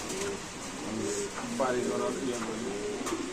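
Soft pigeon coos repeat under a murmur of nearby voices and background bustle, with a few brief chirps.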